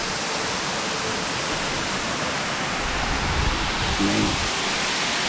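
Tad Mok waterfall in Phetchabun: a broad, steady rush of falling water fills the scene evenly and continuously, loud and close, with no voices.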